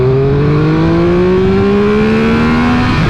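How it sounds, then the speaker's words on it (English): Triumph Speed Triple 1200 RR motorcycle engine pulling hard on a country road, a loud continuous rising whine as revs climb steadily through the gear, heard from the rider's position. "the engine sounds a little bit bland to me"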